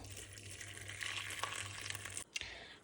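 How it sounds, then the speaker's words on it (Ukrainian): Boiling water poured into a pot of broth ingredients with bay leaf, giving a steady gushing, splashing wash of liquid that cuts off sharply near the end, followed by a brief splash. "І основне ми заливаємо все це окропом."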